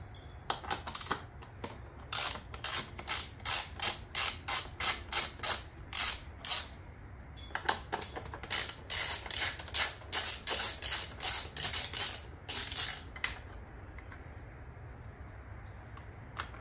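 Hex head screws being removed with a ratchet on a 2022 Yamaha MT10 motorcycle during a tail tidy fender eliminator install: two bursts of rapid, even clicking, close and fairly loud, with a short pause between them and no talk.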